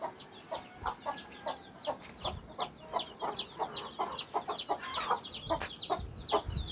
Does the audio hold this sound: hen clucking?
yes